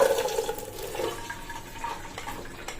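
Water is poured off a pot of boiled lentils being prepared for sweet purnam filling, making a splashing gush that is strongest at the start and then thins into a trickling, softer pour.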